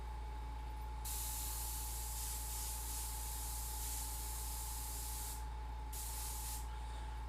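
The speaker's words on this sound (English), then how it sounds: "This airbrush is a little funky." An airbrush sprays paint for lowrider-style artwork, giving two bursts of steady, close airy hiss, one long and one short, over a constant low hum.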